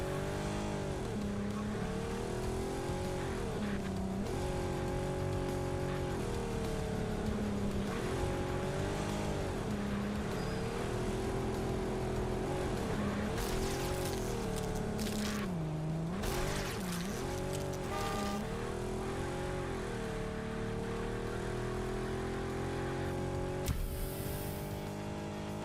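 Ultra Torque 5-liter V8 car engine in the Underground Garage video game, a sustained revving drone that rises and falls through gear changes, with brief tire squeal bursts later on, fairly faint and steady.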